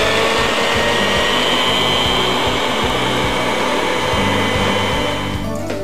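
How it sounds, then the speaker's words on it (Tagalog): A blender runs loud and steady as it chops lemongrass and finely cut citronella leaves for a mosquito repellent, with a constant whirring motor drone throughout and no voices. "Samahan din ito ng pininong citronella leaves bago ito ilagay sa blender."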